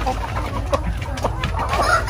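Chickens on a poultry farm cluck and squawk close by in a short, busy flurry of calls, with no talking over them.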